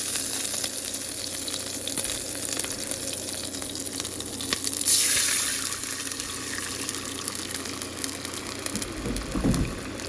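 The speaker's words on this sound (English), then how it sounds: "I'm going to add some water to this pot, and I'm going to deglaze it." Water poured into a hot pot of browned beef stew meat to deglaze it, a loud gushing sizzle that runs steadily, swells midway and surges again near the end.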